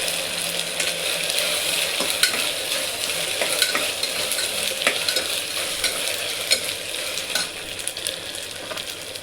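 Ginger-garlic paste sautéing in a pan for a black pea pulao, a steady close sizzle with faint scrapes of stirring throughout, no voices.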